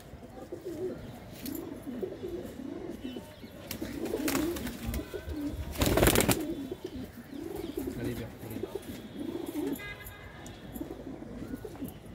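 Pigeons coo steadily in repeated soft rolling phrases at a pigeon sale in Ludhiana, the calls overlapping close by with a few louder bursts of bird noise around the middle.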